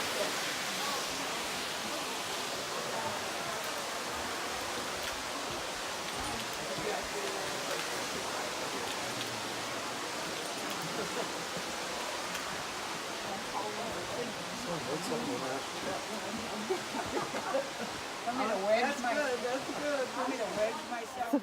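The waterfall at Silver Falls, heard on a hike, gives a steady, broad rushing roar of falling water that fills the whole scene, with faint, indistinct voices and movement mixed in under it.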